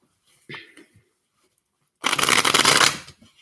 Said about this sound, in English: first shuffle